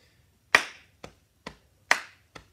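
Body percussion rhythm with no rests: five crisp slaps and claps in an even, steady pattern, alternating two louder sharp hits with softer ones, close and alone with no voice.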